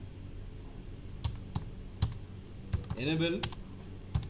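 Several separate key clicks on a computer keyboard while entering data in Tally accounting software, sparse taps spread across a few seconds, with a brief spoken word in between.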